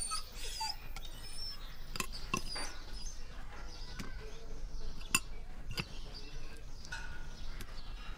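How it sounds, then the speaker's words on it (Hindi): A newly imported dog whimpers in short, thin cries, scattered among sharp clicks and small noises at close range. "नया कुत्ता है, इम्पोर्टेड"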